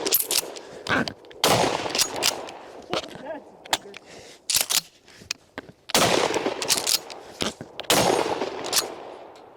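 Mossberg 590A1 pump shotgun firing buckshot outdoors, several loud, sharp blasts at irregular intervals, each with a short echoing tail, and quieter gaps between shots.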